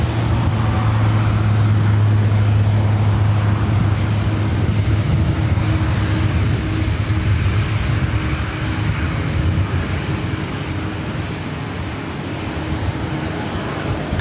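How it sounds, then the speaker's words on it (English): A Southwest Airlines Boeing 737-800 jet bound for SFO at LAX roars loudly and continuously, a broad engine rumble with a low steady drone that eases slightly toward the end. "This is Southwest Airlines flight 4292 heading to SFO. It's a 737-800."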